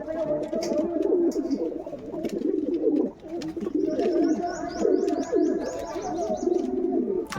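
A dove calls with repeated throaty coos among other pigeons, close and continuous, with scattered chirps and rustling throughout.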